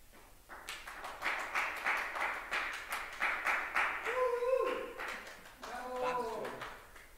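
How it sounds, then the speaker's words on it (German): A crowd applauds steadily at a live stage show, dense clapping that runs on while voices briefly cut in near the end. "Ihr müsst weiter klatschen, dann macht es Verbeuge Sinn."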